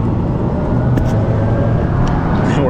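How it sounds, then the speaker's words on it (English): A Ryvid Anthem electric motorcycle accelerates at full throttle, heard as a loud continuous rush of wind and road noise with a faint rising motor whine. "I'm just gonna hit it full throttle."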